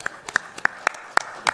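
Sparse, individual hand claps from a small audience at a boxing press conference, about six distinct near claps spread unevenly over a second and a half, with no talk.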